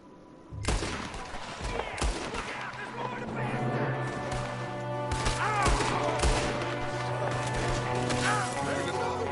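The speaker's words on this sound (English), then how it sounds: "There's another one shooting from the window" Gunfire rings out from a window in Red Dead Redemption 2, a burst of rapid shots followed by scattered cracks and thuds over a continuous game soundscape, with voices talking intermittently.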